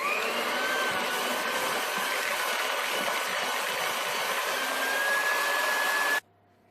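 An electric hand mixer beating butter, sugar and eggs for a chocolate-chip sponge cake, a loud steady whirring drone that holds for about six seconds and then cuts off abruptly.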